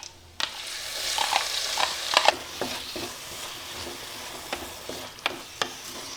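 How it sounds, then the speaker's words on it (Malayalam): Crushed small onions hit hot oil and fry with a steady close sizzle, punctuated by sharp scraping and stirring knocks from a utensil in the pan. "ചെറിയ ഉള്ളി ഇട്ട് കൊടുക്കാം."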